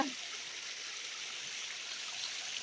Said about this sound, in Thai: แดดมาน้ำแรงแล้วจ้าบุญ นี่ออกเต็มคอเลยจ้า